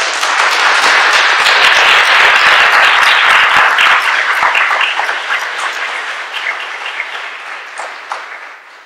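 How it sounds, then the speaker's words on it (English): Loud, sustained audience applause fills a hall at a 2017 naturalization oath ceremony in Montclair, NJ, dense clapping swelling then slowly thinning and tapering off near the end. "So why don't you give yourself a lot of applause for that?"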